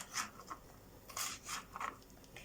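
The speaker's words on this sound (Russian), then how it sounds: "Сейчас я добавлю свежие помидорки. Ну, вот так вот меленьким кубиком." A knife dicing fresh tomatoes into small cubes on a board, giving a few quiet, separate cutting scrapes in an uneven rhythm against soft background hiss.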